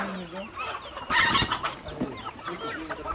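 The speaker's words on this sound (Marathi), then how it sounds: "सोनालीची कोंबडी आहे" A Sonali breed hen clucks nearby in a village setting, a series of throaty clucks with a louder burst in the middle, while someone talks over them.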